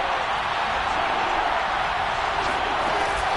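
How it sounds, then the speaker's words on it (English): Steady, dense crowd roar fills a domed football stadium during a playoff game, a continuous wash of massed voices with no individual speech standing out. "The crowd here in the Dome making things difficult."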